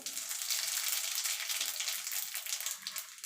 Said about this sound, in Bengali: তো ফোড়নটা একটুখানি ভাজা ভাজা করে নেব